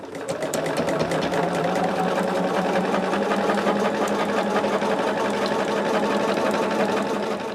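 A sewing machine runs steadily, stitching a quilted gift made from fabric scraps along a baste line, its needle chattering in an even, continuous drone throughout at close range.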